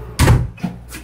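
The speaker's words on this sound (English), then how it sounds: "close the door" A house door pushed shut with one solid, heavy thump close by, followed by a softer knock and faint rattle as it settles.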